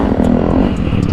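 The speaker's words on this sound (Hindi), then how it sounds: "एग्जॉस्ट की साउंड सही आ रही है उसकी भी। इसने डीबी किलर ही हटा रखा है।" A Pulsar motorcycle exhaust with its dB killer removed drones loud and steady at close range, a throaty continuous roar with no speech.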